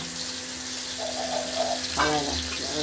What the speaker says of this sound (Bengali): মাছটা লাল করে লাল করে বলতে হবে না ভাজা হয়ে গেছে ভাজা হয়ে গেছে